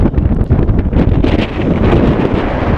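Wind buffeting a microphone outdoors during a run, loud rough gusty rumble and rustle filling the whole stretch with no talking.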